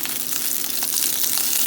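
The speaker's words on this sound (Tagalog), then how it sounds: "Isusunod ko na si sibuyas." Onion sizzles and fries in a hot pan as the base for chicken tinola with papaya, a steady close hiss and crackle running throughout with no talk.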